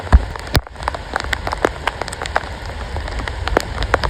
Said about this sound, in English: it's pouring rain out